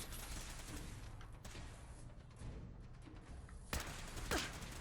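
Gunfire from a Fallout 4 firefight, a dense, noisy mix of shots and low rumbling under a constant wash of game sound, with a couple of sharper bursts toward the end.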